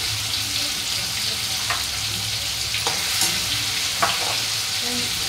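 Spice paste sizzles and fries in a pan for a thin soybean and potato curry, with a steady close hiss broken by occasional sharp scrapes of a spoon as it is stirred.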